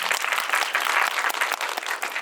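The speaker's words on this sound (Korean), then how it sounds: "감독님께 박수 한번 부탁드릴게요" An audience breaks into dense, sustained applause for a film director at a Korean movie screening Q&A, loud steady clapping from a full room with no voices over it.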